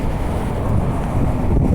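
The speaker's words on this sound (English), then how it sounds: "It's not the rain, it's the wind pushing back against the lack of traffic and exhaust." Strong wind blows in Los Angeles, a loud low rumble buffeting close against the microphone, steady and unbroken with no voices.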